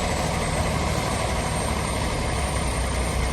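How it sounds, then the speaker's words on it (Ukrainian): A T-150K tractor's massive engine drones in a steady, loud, unbroken roar close by, with no change in pace and no voices. "Масивна, потужна, з характерним риком двигуна"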